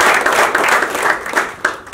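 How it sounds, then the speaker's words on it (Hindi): At a Jain journalists' association discussion forum, a hall audience claps loudly in a welcome. The thick, continuous applause has scattered sharper individual claps and eases slightly toward the end. "मैं चाहूंगा जोरदार तालियों से स्वागत किया जाए"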